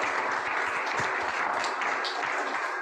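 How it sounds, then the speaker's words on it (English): A museum audience gives sustained, even applause after a talk on conserving the ironclad USS Monitor, the many overlapping claps forming a dense, loud wash throughout. "I'd like to give another round of applause to Will and his conservation team."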